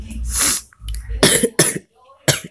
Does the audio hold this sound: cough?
yes